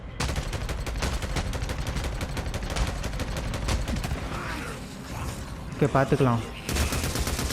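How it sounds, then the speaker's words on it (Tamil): Rapid bursts of gunfire from a gun in the video game Days Gone, crackling repeatedly through the first few seconds over game sounds, with someone speaking briefly later. "சவுண்டு பாருங்கள், செம்மையாக இருக்குது இந்த கன்னுக்கு"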